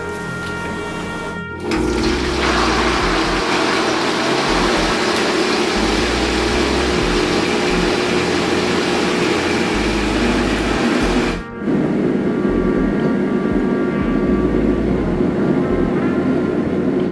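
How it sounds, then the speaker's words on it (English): A Vitamix blender runs at medium speed, churning cream into butter with a loud, steady motor whir. The sound cuts out briefly twice, then resumes at the same level. "Now I put the Vitamix on for about 5 minutes at medium speed, mixing it with the plunger."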